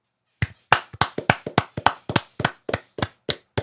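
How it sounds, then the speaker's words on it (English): A small group claps sharply at the camera, about a dozen crisp, close claps in a quick, slightly uneven rhythm with no voices. "Let's start looking at the camera and clapping."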